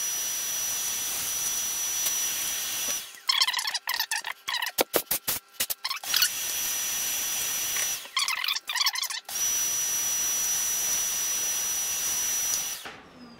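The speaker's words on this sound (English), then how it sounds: "So back to the hoover for a second." A hoover vacuum cleaner runs loud and close while cleaning out a PS4 fan and heatsink, its steady high whine breaking into choppy bursts and stutters as the nozzle is moved and blocked, then settling back to a constant roar.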